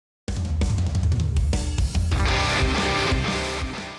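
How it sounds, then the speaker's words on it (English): A drum fill opens a song with a sudden burst of punchy hits and crashes, quickly followed by the full band playing loud and dense with no talking. "In the context of the song, said drum fill sounds like this."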